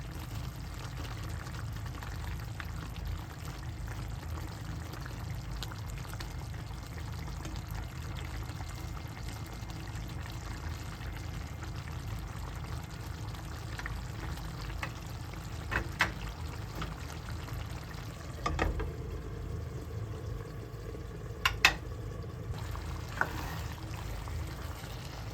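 Ginataang gulay with salmon, vegetables in thickening coconut milk, simmers steadily in a pot, a continuous low bubbling wash with a few faint clicks near the end.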